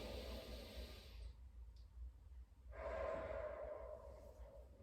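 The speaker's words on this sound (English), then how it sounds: "One more breath there." Slow, deep breaths during a calm, mindful stretching practice, a soft airy exhale followed after a pause by a fuller inhale, close and quiet with no talking.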